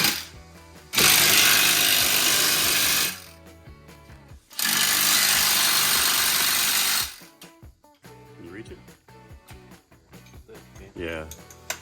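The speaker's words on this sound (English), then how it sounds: "Now we're ready to put the nuts on here and tighten this thing down." Ratchet wrench tightening nuts down on an assembly, two long loud bursts of dense rapid clicking separated by a short pause, followed by quieter scattered mechanical clinks and handling noises.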